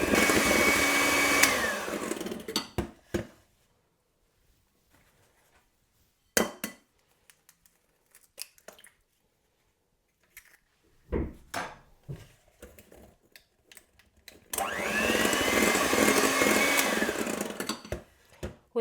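Electric mixer whisking cake batter of sugar, oil, butter and vanilla extract in a bowl, two loud whirring bursts at the start and end, with clinks and clatter between them.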